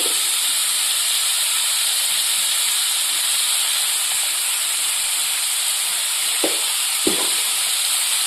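Carrots frying with salt and turmeric in a pan on medium flame, producing a loud, steady hiss and sizzle throughout, broken by two quick stirring scrapes near the end; no talking.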